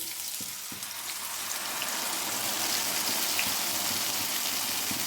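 Gravy poured into a pan of frying paneer sets off a loud, dense sizzle that swells after the first couple of seconds and holds steady, with no voices.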